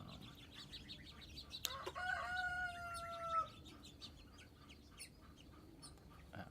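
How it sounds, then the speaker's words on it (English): Wild birds call outdoors on a bright day: a few faint scattered chirps, then a drawn-out whistling call that fades, all distant over a soft background hush. "we have a lot of wild birds out today, being very cute"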